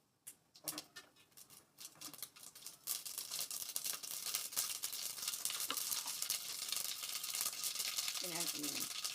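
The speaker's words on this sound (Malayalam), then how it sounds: "കടുക് പൊട്ടിച്ച്" Mustard seeds sizzle and splutter in hot oil for rava upma, starting with a few scattered pops and rising into a dense, steady crackling sizzle, close and lively.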